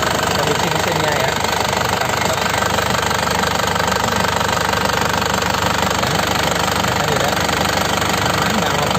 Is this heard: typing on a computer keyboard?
no